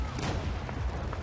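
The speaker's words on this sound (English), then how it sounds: "Who the heck is shooting?" Gunfire during a naval mission in Battlefield 4, a short burst of muffled, fairly distant shots thudding in quick succession under a low background rumble.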